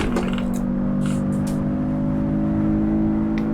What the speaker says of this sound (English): Engine sounds nice. It's still muted, but it does sound quite nice overall.